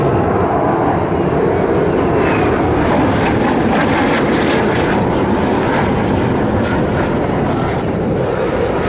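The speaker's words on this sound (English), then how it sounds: "They're going to pull the throttles back to idle, roll it upside down, and listen to how quiet the Super Hornet can be." A Boeing F/A-18 Super Hornet fighter jet makes an inverted, idle-throttle low pass at a beach air show, producing a steady, broad, rushing engine roar that holds loud and unbroken throughout.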